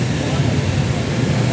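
A Honda XR 150 motorcycle engine runs at a steady idle after starting, giving a continuous low rumble with no pauses, close and fairly loud.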